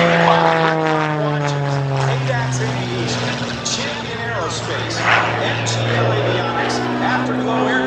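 Rob Holland's aerobatic propeller airplane at an air show gives a steady, loud engine drone with a slowly sliding pitch as it rolls, heard continuously with an announcer talking over it.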